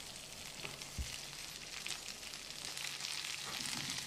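A few handfuls of curry leaves frying in hot oil in a pan, a soft continuous sizzle and crackle with one dull knock early on, no talking.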